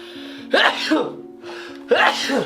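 Two sneezes from someone standing in a dusty, long-abandoned old house, each a sharp burst with a short inhale before it, spaced about 1.4 seconds apart, close and fairly loud.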